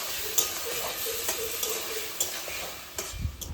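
Ground spices sautéed and stirred in a pan for a Bengali river bele fish curry with ridge gourd: a low, steady sizzle broken by several scraping stirs, close and fairly quiet, with no talking.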